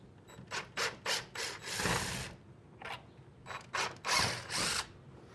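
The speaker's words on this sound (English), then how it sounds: "We're just going to back those out with a battery drill." A battery drill backing out screws whirs in a series of short, uneven bursts with brief pauses between them, close and fairly loud, with grinding and ratcheting noises.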